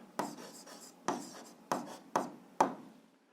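A pen writes answers on paper in five separate scratchy strokes, each starting crisp and trailing off, spaced about half a second apart. Close and quiet, with no talk.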